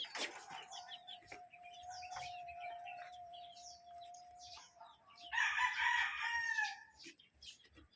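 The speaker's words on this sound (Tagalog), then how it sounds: "Yan, mga manok." Rooster crowing and chickens clucking near a duck and pigeon pen on a vacant lot, with one long steady crow early on and a louder burst of overlapping crowing and cackling toward the end, plus light ambient noise.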